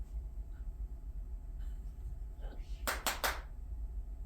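A short burst of three or four sharp hand claps sounds close by over a low rumbling background hum, with a few faint sounds just before.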